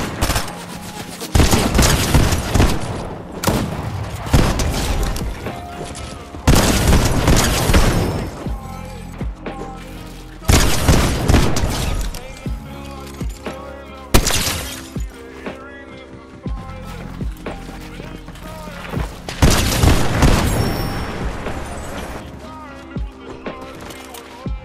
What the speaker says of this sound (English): watch me destroy these ranked kids with this auto shotgun